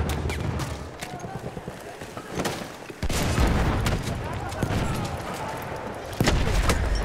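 Rapid gunfire bursts and blasts from a Battlefield 1 multiplayer battle crackle continuously and loudly, with sharp impacts and explosions punctuating the sustained fusillade, and no speech in the clip.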